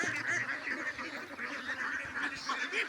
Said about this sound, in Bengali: আমার একটা ছোট হাঁসের খামার